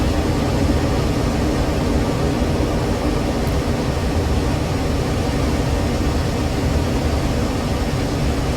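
Steady, broadband roar of an F-16C Viper jet engine in a flight simulator game, a constant loud rushing hiss and low rumble with no change across the stretch and no voices.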